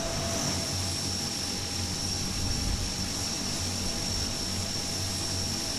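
Airbus A400M military turboprop in Microsoft Flight Simulator 2020, two engines at full power and two feathered, a Royal Air Force aircraft; a steady, even roar with a whining tone, unbroken throughout.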